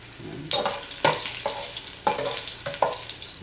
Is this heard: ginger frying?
yes